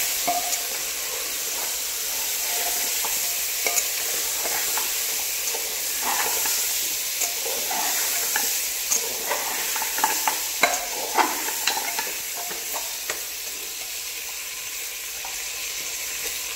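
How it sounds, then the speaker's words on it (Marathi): Mutton trotter curry sizzles and fries steadily in a pan over a medium gas flame while a spoon stirs it, with scattered scraping clicks over a continuous close hiss and no talk. "आता हे व्यवस्थित मिक्स करून घ्यायचं।"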